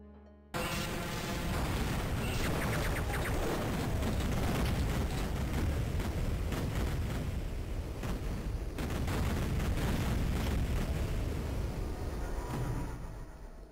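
Prolonged explosion sequence in the video game Duke Nukem 3D, loud continuous rumbling blasts and crackling debris sustained for several seconds before fading.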